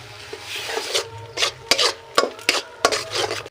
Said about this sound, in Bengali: এই পেশাইগুলো আমলকিগুলো এই কড়ার মধ্যে দিয়ে দিচ্ছি, ঘিতে গুঁড়ো দিয়ে দিচ্ছি।